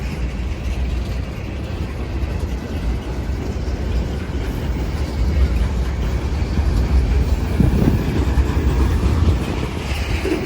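CSX L235 freight train rolls through the streets of Tarboro, a continuous heavy rumble of wheels and cars that grows slightly louder midway and holds steady, with no voices.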